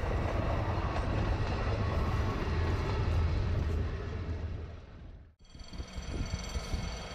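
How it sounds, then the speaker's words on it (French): The X 2403 railcar of the Haute-Auvergne railway rumbles past loudly and steadily, its low roar dropping to a brief near-silence before track and engine noise return. "l'X 2403 du chemin de fer de Haute-Auvergne effectuait un parcours similaire"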